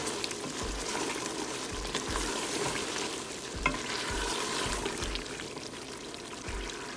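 Coriander, turmeric and red chili powder fry in oil in a pot for mutton pulao, a steady sizzle broken by regular low scraping thuds of a stirring spoon.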